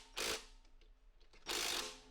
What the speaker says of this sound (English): So I'm just going to tighten up these nuts a little bit on each of the bolts.